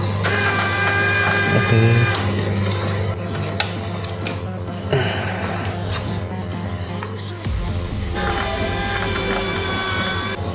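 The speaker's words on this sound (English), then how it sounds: "We test this winch. Pull." Small electric winch on a WPL C34 RC truck whirring and ratcheting as it reels in line, a steady mechanical grind with brief pauses and gear clicks, close up, with a short spoken word.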